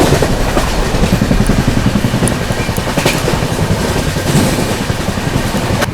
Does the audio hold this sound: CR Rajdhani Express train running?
yes